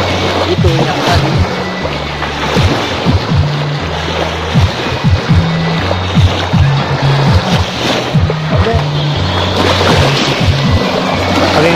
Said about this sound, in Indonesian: Kita di sini juga mendengarkan suara-suara ombak yang begitu merdu ya, menghantam dengan pinggiran pantai